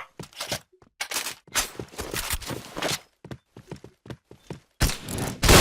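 Gunfire in the shooting video game Point Blank comes in sharp, loud bursts and single shots with brief gaps between them, close and uneven in rhythm, ending with a heavier blast.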